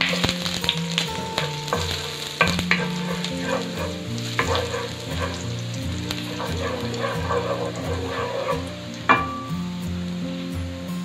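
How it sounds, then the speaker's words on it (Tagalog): Garlic drops into hot oil for a sautéed bitter gourd dish and sizzles loudly and continuously close up, with several utensil scrapes and taps as it is stirred; no one speaks. "So painitin lang po natin ating oil. So, lagay po natin yung ating garlic."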